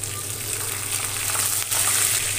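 Curry leaves hitting hot oil already crackling with cumin, mustard seeds, crushed garlic and a split green chili: a loud, steady, close hiss and sizzle that holds without a break.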